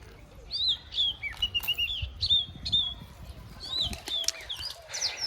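Pigeons flap their wings in repeated bursts, with bright chirps and tweets mixed in, close by and fairly loud.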